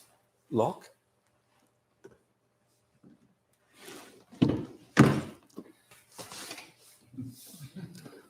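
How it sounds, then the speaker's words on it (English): A Hyundai Ioniq 5 door gets pushed hard to latch and lock, giving one firm, close thunk near the start, then softer faint knocks, with a person talking afterward. "You have to press like fury on the door to make it lock."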